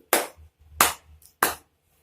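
Three sharp hand claps, spaced roughly evenly about two-thirds of a second apart, close and distinct against near silence.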